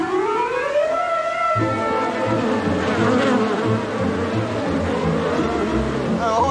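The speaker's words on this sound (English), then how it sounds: "Mate, you've got a massive beehive on the back of it." Bees swarm out of a large beehive on the back of a car at Bondi: a dense, continuous buzzing drone fills the air, close and loud, with a rising whine at the start that gives way to a busier, layered hum.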